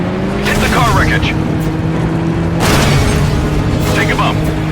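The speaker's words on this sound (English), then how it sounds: "Hit the car wreckage." In Stuntman: Ignition a car smashes into car wreckage, giving several loud booming crunches spaced a second or two apart over a constant engine drone and game sound.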